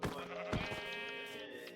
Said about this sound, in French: Oh il y a encore un mouton.